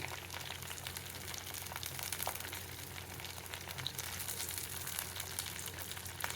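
Garlic cloves and curry leaves frying in hot oil in a clay pot for fish curry, after mustard and fenugreek seeds, giving a steady close sizzle with fine crackles and no talk.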